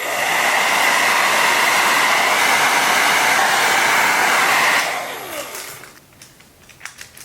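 A heat gun blows loudly and steadily while shrinking heat shrink tubing over soldered wire joints in a hacked body trimmer. The airflow cuts off sharply near the end and leaves a few quiet handling clicks.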